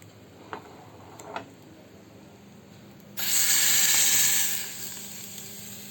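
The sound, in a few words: spices crackling in hot oil for tempering (chhaunk)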